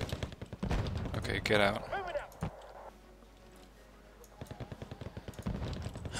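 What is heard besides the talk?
gunfire in the video game Wargame Red Dragon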